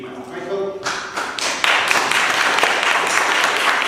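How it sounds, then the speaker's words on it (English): Scattered clapping swells into fuller applause as a speaker comes on at a local community meeting, fairly close, with some voices underneath. "It's nice to come on to applause."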